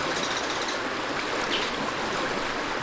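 A shallow brook streams steadily in the brook area of a Wii fishing video game, a constant close rush of running water with no pauses and no other sounds.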